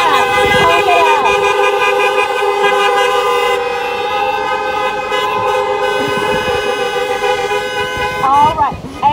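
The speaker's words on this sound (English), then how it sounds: "Honk it up for Pat." Several car horns honk together in long sustained blasts at a drive-in graduation in May 2020, loud and close, with overlapping tones holding throughout and a few voices cheering underneath.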